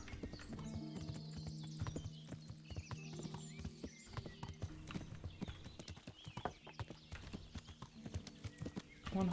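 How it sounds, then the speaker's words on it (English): Horse hooves clip-clop at a steady walking rhythm in Kingdom Come: Deliverance, with jingling tack and an occasional whinny, moderately loud and close, with no talk over it. "One horsey."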